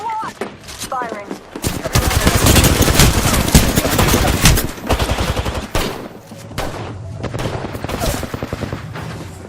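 Video game gunfire in loud, rapid bursts of automatic shots, close and dense for several seconds, then thinning into scattered shots, with brief talk over it.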